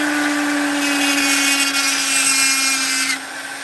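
A rotary carving tool fitted with a fine burr cuts into soft wood, giving a steady high-pitched whine with a constant tone. It stays loud and close throughout, then eases off slightly near the end, with no talk.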